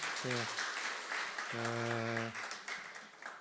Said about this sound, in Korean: 우리 한 번 더 박수로 우리 환영하겠습니다